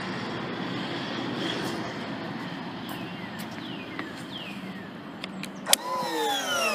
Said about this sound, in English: this is my new blower